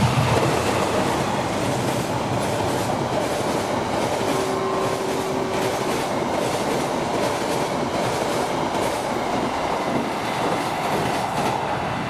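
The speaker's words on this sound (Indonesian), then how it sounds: "ini yang mau lewat adalah kereta api Argo Parahyangan tambahan" The Argo Parahyangan tambahan KA39 train passing Klari station makes a loud, continuous rumble with rhythmic wheel clatter throughout, and a brief tonal squeal rises in the middle.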